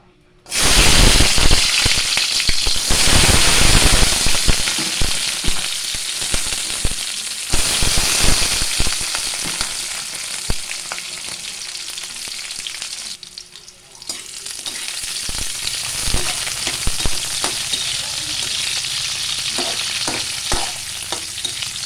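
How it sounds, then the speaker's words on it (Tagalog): French fries drop into hot oil and fry, a loud dense crackling sizzle that starts abruptly, with stirring clatter and brief dips before the bubbling resumes, close up and without talk. "Unahin muna pagluto yung fries."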